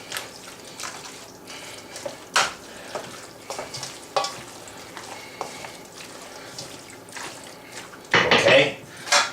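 Sauce being stirred around in a hot pan while making Asiago pork stuffed braciole, with scraping clatter and soft sizzling in bursts, ending in a louder frying flare; a voice speaks over it.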